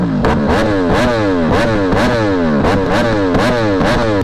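Ducati Panigale V4S fitted with an Austin Racing exhaust, revved hard in rapid repeated blips: a loud, close, raspy engine roar rising and falling about twice a second with no talking.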